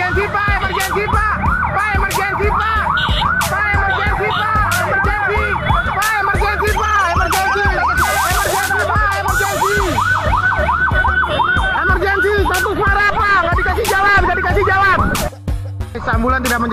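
Loud wailing ambulance siren rising and falling continuously, close by, held up by an official's convoy in traffic, with traffic rumble and a brief horn-like burst partway through.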